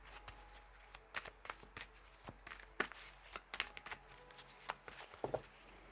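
Tarot cards shuffled for a reading, soft irregular flicks and taps, faint and close, with quiet gaps between them.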